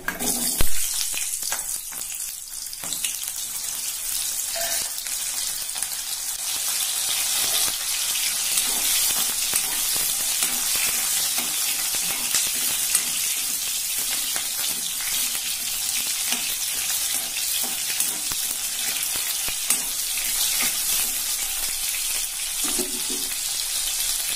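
Shallots frying in hot oil in a pan, a steady loud hiss and crackle that runs continuously and close up with only occasional faint knocks, no voices.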